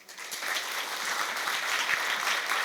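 An indoor audience applauds after an AI lecture, giving a sustained burst of clapping that rises quickly and stays even and fairly distant, with no voices over it.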